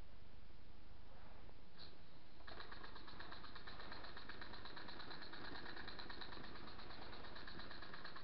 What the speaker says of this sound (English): These little engines will run right along.